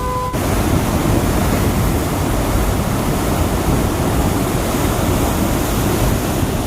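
Floodwater of the swollen Girna river rushes in a loud, continuous broadband roar, steady and close, with a brief tonal blip at the very start and no talk.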